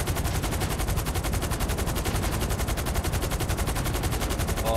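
Continuous rapid automatic gunfire in GTA 5 Online during a co-op mission with an attack helicopter nearby, loud and steady throughout with no pauses.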